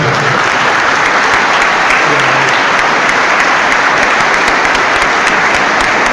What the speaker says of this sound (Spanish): Recibamos al hermano con un fuerte aplauso.